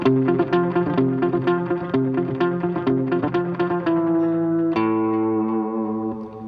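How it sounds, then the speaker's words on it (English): Electric guitar picking a repeating pattern with a short slapback echo doubling each note, then a sustained strummed chord ringing out. "you can hear that echo start to kind of slap back and create this really awesome effect"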